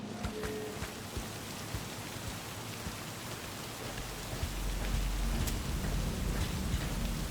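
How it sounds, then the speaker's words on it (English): Steady rain falls in the video game Cyberpunk 2077, a dense hiss of drops that swells louder in the second half, with low rumbling underneath and no talk. "This game looks beautiful when it's raining."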